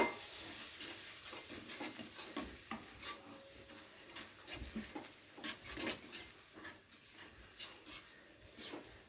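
A spoon stirring and scraping a dry-roasted powdered spice mix through onions in a pan for a fish curry, giving soft, irregular rasping strokes with light sizzle underneath, close and moderately quiet.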